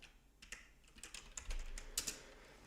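A computer keyboard is tapped in short bursts of clicky keystrokes, close and moderately quiet, with brief gaps and a louder cluster near the end.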